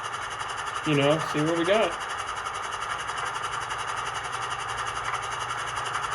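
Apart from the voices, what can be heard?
ScaleTrains GE/NS AC44C6M model locomotive compressor sound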